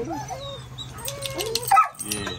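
A dog whimpers and yips with high whiny cries, then gives a short bark near the end, close by and fairly loud in a quiet room.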